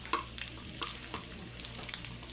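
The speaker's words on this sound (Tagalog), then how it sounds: "Sangagin muna para lumabas yung mantika." Pork dry-frying in a pan to render its fat for pork humba, a continuous crackling sizzle broken by several sharp spatula scrapes and stirs, close and loud with no voices.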